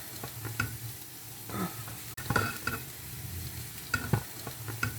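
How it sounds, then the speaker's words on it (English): Chopped parsley sizzles and crackles in a hot pan over medium heat, with intermittent clatters of stirring over the steady frying hiss. "Add 20 grams of chopped parsley. Fry medium."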